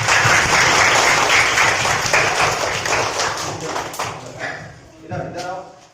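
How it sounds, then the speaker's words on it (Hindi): A burst of clapping from a small crowd, dense at first and then thinning out, with a few voices coming through near the end. "इनके लिए जोरदार तालियां"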